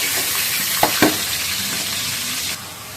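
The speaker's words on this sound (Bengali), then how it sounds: "এবার আমি চিকেনগুলোকে ভেজে নিই" Chicken pieces sizzle steadily in hot oil in a pan, with a couple of sharp scraping stirs near the start and a continuous frying hiss throughout.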